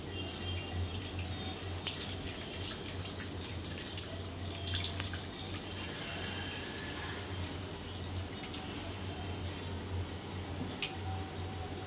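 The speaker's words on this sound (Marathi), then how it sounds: "आता मी गाळून घेते." Whey strained off homemade paneer that was curdled with lemon juice, flowing in a steady, close trickle with scattered drips over a constant low kitchen hum.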